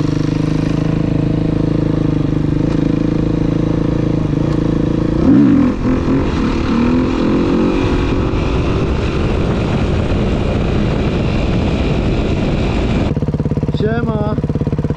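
A 50cc motorcycle runs steadily close by with a continuous engine drone that shifts pitch as it rides, while a voice talks over it near the end.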